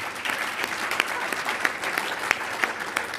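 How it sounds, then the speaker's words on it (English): A breakfast audience at a business gathering claps in a moderate, fairly quiet round of applause, individual sharp claps standing out from a steady patter, with no talk over it. "They deserve a round of applause"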